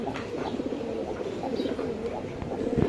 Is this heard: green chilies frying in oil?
no